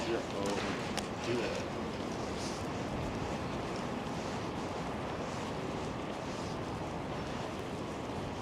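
Strong gusts roar across the elevated High Line park in Manhattan on a windy morning, a steady broadband rush of wind buffeting the microphone throughout with no letup.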